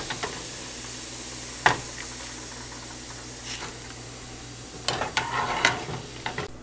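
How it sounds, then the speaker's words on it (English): Roasted Bengal gram deep frying in hot oil gives a steady, quiet hiss and sizzle, with a few sharp crackles and pops near the middle and then a busier cluster toward the end. "I'm going to fry the roasted Bengal gram."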